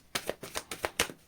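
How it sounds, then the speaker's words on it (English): An oracle card deck being shuffled by hand, giving a quick run of about six crisp, papery riffling bursts in close succession, near and clear with no talk. "Last shuffle."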